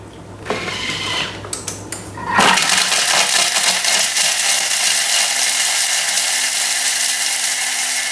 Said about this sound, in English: we're going to grate the Parmesan. 10 seconds on speed 9